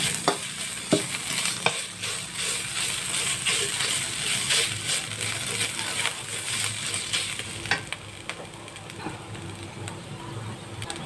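Chopped pork belly and curry paste stir-fry in a hot wok, a steady close sizzle punctuated by scraping and clacking of the spatula, with no talking.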